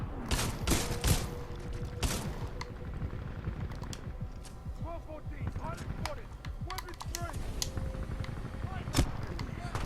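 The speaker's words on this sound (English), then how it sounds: "Well, let's embrace the shotgun" A shotgun fires in the video game Titanfall 2 during a Master difficulty mission. A few sharp, heavy blasts come early, then scattered gunfire and clatter follow while a player talks over the action.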